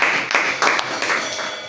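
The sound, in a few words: congregation clapping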